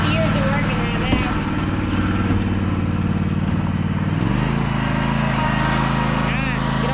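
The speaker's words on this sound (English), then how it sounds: "Let's go mow." A lawn mower engine runs steadily throughout with a constant mid-low drone and a slight pitch shift partway through; voices are faintly present during the mowing.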